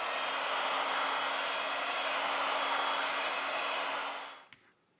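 A heat gun blows steadily at close range while warming the screen of a Xiaomi Redmi Note 9 Pro to about 90 °C, a continuous loud whooshing roar with a faint hum before it cuts off near the end.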